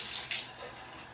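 Shower water running through a newly installed shower filter, a faint, steady hissing spray with slight fluctuations, short and distant-sounding.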